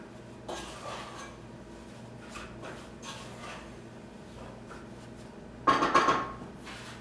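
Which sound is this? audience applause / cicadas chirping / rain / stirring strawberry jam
stirring strawberry jam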